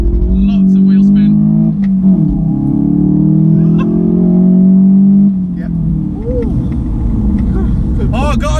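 A car launches hard from a standstill with traction control off and heavy wheel spin, its engine roaring loud and close as it revs. Voices talk over it.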